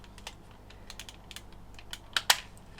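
Sharp plastic clicks as the lower wing of a 1/72 Flyhawk SBD-3 Douglas Dauntless model kit snaps into place, a few faint taps followed by two louder close clicks near the end, with no talking.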